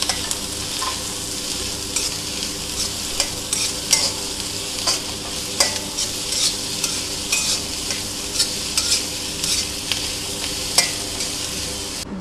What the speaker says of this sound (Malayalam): 1 പച്ചമുളകും ഇതിലേക്ക് ചേർത്ത് ഇളക്കി കൊടുക്കാം